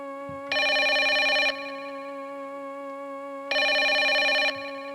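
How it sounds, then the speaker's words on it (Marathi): A telephone rings twice, each ring a bright, buzzing electronic bell lasting about a second, with a clear pause between them over a faint steady hum. "दोन तीन रिंगा गेल्या आणि पटकन फोन उचलला गेला"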